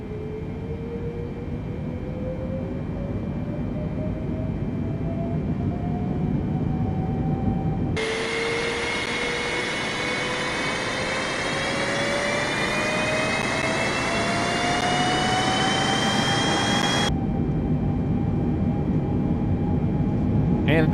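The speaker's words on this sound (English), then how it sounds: "Runway 15 right, clear for takeoff." The jet engines of a Boeing 747 in the Microsoft Flight Simulator game run up for the takeoff roll, giving a steady, loud roar with a whine that slowly rises in pitch and a sharp, brighter surge partway through.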